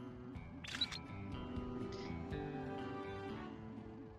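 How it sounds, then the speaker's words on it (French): A camera shutter clicks once while taking a photo in the Sly Cooper 4 video game, a quick faint snap over a low game music loop. "Je vais le prendre en photo."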